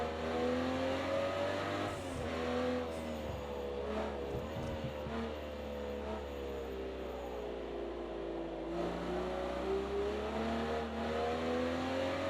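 Aston Martin DB11 engine in the Project Cars 2 racing game at Bathurst, a steady sustained drone with rising and falling revs through gear changes, loud and continuous without talk.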